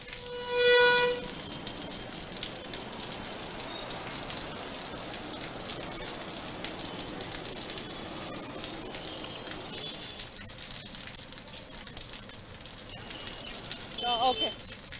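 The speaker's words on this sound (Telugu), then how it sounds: "గంట పాటు నుంచి ఏకదాటిగా వర్షం కురుస్తున్నట్టుగా తెలుస్తుంది" Steady heavy rain pours in Telangana, a dense, even hiss with pattering drops throughout, interrupted by a brief louder burst near the start and again near the end.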